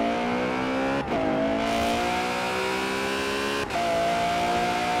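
A car engine revs hard in the video game Forza Horizon 4, climbing steadily in pitch, with two quick gear shifts breaking the rising drone, loud and close.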